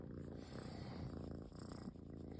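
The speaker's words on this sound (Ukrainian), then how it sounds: "Попести кицьку, попести кицьку." A cat purrs while being petted, a close, continuous low rumbling purr with an even pulsing rhythm throughout.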